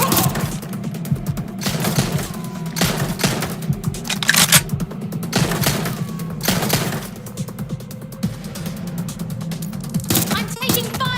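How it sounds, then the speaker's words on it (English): Bursts of gunfire in Watch Dogs Legion, sharp cracks arriving in irregular clusters over steady game noise, loud and close. "I'm taking fire!"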